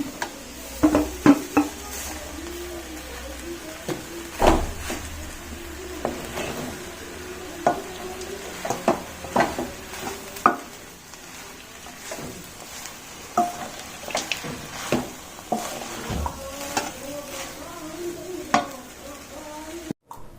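Vegetable fried rice is stir-fried in a pan, with repeated scraping and clanking of a spatula against metal over a low, steady sizzle, close and uneven in rhythm, without talk.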